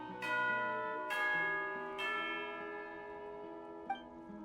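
Bell ringing for tea time in Genshin Impact, three clear resonant strikes about a second apart, each ringing on and decaying, followed by a faint small chime.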